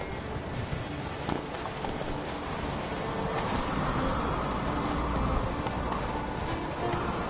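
The hooves of the horse Roach clip-clop in a video game as a steady, rapid rhythm at a run, set against a dense, constant wash of ambient noise throughout, with no speech heard.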